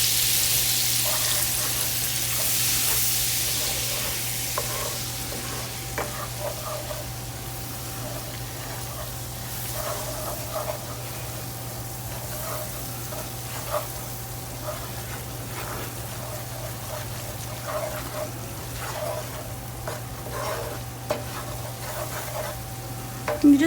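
Flour cooks in a pan for an Alfredo sauce, a soft steady sizzle beneath repeated scraping stirs of a utensil against the pan, evenly spaced and fairly quiet.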